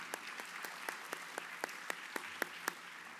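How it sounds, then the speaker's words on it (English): An audience at a school winter orchestra concert applauds, with individual claps standing out as sharp, evenly spaced snaps over a soft, thin patter of hands, fairly quiet and steady throughout. "one more round of applause"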